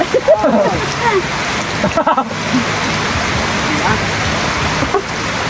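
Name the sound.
heavy rain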